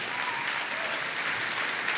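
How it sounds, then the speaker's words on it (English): Sustained applause from a conference audience at a blockchain event, a steady dense wash of clapping filling the whole stretch without a break. "really warm round of applause."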